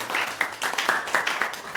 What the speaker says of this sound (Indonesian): Tepuk tangan untuk saya.